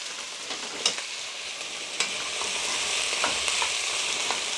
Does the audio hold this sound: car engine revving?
no